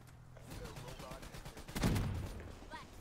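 Gunfire from a weapon in the video game Call of Duty Black Ops III, a burst of shots with one louder, heavier blast near the middle, heard over game background noise.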